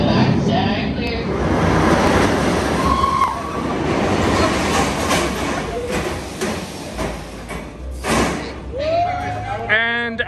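A Montezuma's Revenge roller coaster train at Knott's Berry Farm rumbles and clatters into the station with a slam near the end, while people talk and a squeal rises at the close.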